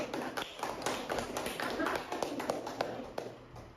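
A classroom of students claps together, a dense patter of quick hand claps lasting a few seconds with voices mixed in.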